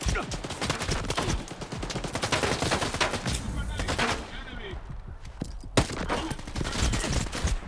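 Rapid video-game gunfire crackles densely and loudly, bursts of automatic fire layered together, with a brief lull and a sharp single shot near the end before the barrage resumes.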